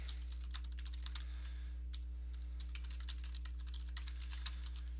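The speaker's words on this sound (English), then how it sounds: "And then you can type in" Quiet, steady tapping on a computer keyboard, a rapid stream of soft keystrokes over a faint electrical hum, with no talking.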